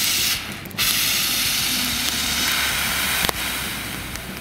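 A 2 kg powder fire extinguisher from a car emergency kit sprays at an outdoor test fire in a loud, continuous hissing rush. The jet stutters briefly near the start, then runs steady for several seconds with no voices.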